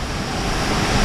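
A large waterfall roars close by in a continuous, loud, broadband rush of falling water with no pauses or voices.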